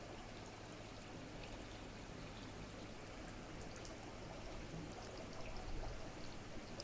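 Water pours steadily into a tilapia fish tank through a recirculation outlet, a constant close splashing rush that swells slightly near the end, with no voices.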